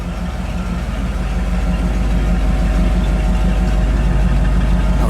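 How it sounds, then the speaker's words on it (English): A 1957 Cadillac Eldorado Biarritz convertible's V8 idles steadily up close at the exhaust, a loud, low, even burbling pulse with a motorboat-like throb and no talking. "Let me listen to the exhaust for a second."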